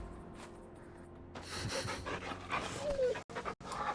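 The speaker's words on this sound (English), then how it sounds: "Gotta pet the dog. Let me pet the dog." In the video game Final Fantasy XVI, a dog pants steadily and rhythmically while being petted, quiet at first and then closer and louder, with short snorting breaths near the end.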